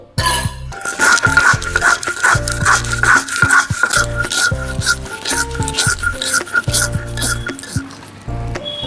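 Mustard seeds ground with a little water on a grinding stone, rhythmic scraping and thudding strokes repeating steadily and loudly, close by, with a faint bell-like tone running through.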